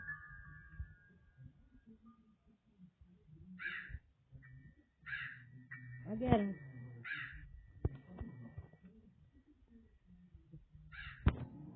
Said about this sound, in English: There's a bird in this downstairs.